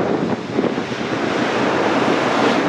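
Sea waves break and wash steadily along the shore, a broad continuous roar of surf with wind buffeting the microphone, loud and close throughout.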